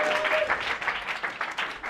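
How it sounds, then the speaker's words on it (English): An audience at an education design showcase claps for a presenting team, a fairly loud, uneven burst of hand claps with pulsing bursts throughout. "Let's give a round of applause for Team 11"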